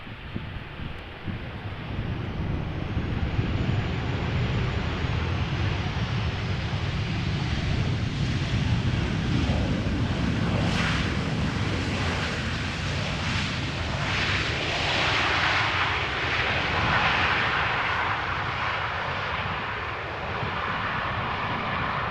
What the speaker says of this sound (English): 737 arriving from London Heathrow